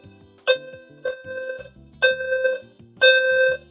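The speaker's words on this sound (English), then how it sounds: "I think that is the fire alarm" A fire alarm sounds in three loud, shrill electronic bursts with a steady pitch and strong harmonics, ringing over a backdrop of soft background music.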